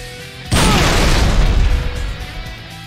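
A plasma grenade detonates in Halo Reach with a sudden loud, close boom followed by a broad rumbling roar that slowly fades over about two seconds.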